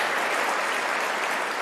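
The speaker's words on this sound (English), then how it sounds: "Yeah, that deserves an applause." A dense, steady wash of audience applause fills a conference hall at a political convention, loud and sustained throughout with no voices over it.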